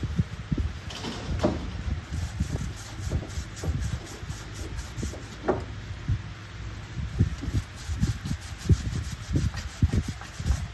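A CV axle is scrubbed round and round with a Scotch-Brite pad, giving a continuous close-up abrasive rubbing with scattered light knocks and scrapes throughout.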